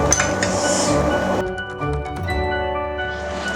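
A lid clinks onto a pot of simmering chicken korma spices over a high flame, a close metallic chink with ringing overtones followed by a quieter, muffled cooking hiss.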